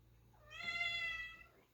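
A cat gives a single drawn-out meow, high and clear, close by in an otherwise quiet room.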